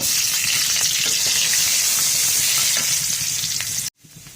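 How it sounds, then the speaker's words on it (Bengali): Chopped garlic fries in very hot oil, a dense, steady close sizzle with faint crackles, ending abruptly near the end. "তেল খুব ভালোভাবে গরম হয়ে গেলে আমি এখানে কিছু রসুন কুচি নিয়ে নিয়েছি"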